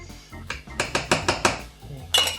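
Mixed spice being stirred in with a spoon against a metal pan or bowl, giving a steady run of about six sharp clinks at an even pace followed by a brief pause and one louder scrape, close and clear with no talk.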